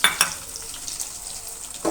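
Dried red chillies, onion and tempering spices frying in hot oil in a kadai, a soft steady sizzle with a few light stirring scrapes and clinks, close and fairly quiet.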